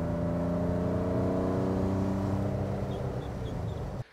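Onboard a Lancia Stratos HF rally replica, the engine drones steadily at moderate revs, easing slightly toward the end before cutting off abruptly, heard from inside the car.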